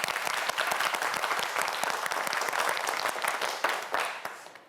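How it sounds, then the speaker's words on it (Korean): Studio audience on a TV quiz show claps in a steady, dense burst of applause that fades out near the end, with no voices over it. "긴장을 좀 풀라고 저희 박수 한번 보내줄까요?"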